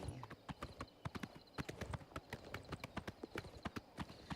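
Horse hooves clip-clop at a steady walking rhythm in Oblivion Remastered, a fantasy video game, with crisp, close, evenly spaced hoof strikes and no talk.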